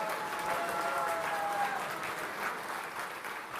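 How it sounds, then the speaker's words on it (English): Audience applause for the Indian community at a CryptoDATA event, steady clapping from a sizeable crowd at moderate distance, holding evenly then easing slightly, with a faint tonal whistle briefly over it. "Let's have a round of applause for the Indian community"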